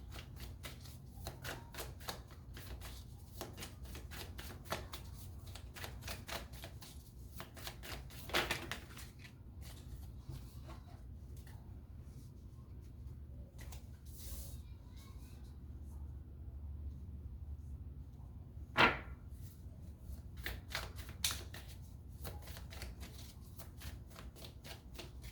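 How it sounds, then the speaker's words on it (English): Tarot cards being shuffled and pulled from the deck, heard as quiet, close bursts of rapid papery riffling and flicks with short pauses between, plus a few soft taps and slides. "Let's pull a couple of cards for Divine Feminine."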